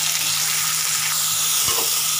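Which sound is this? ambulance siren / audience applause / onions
onions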